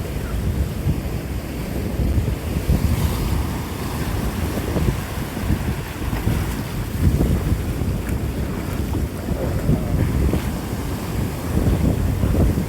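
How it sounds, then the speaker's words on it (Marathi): Sea waves rushing in and out over a rocky Konkan beach, mixed with heavy wind buffeting the microphone, a continuous rough roar with surging swells. "किती पाणी येते बघा आणि आता हे पाणी पटकन समुद्रात जाईल परत येईल"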